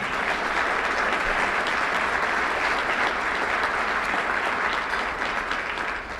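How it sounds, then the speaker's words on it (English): Audience applause at a technology innovation conference, a dense, steady wash of many hands clapping for the full stretch, loud and close, fading slightly at the very end. "give them a round of applause"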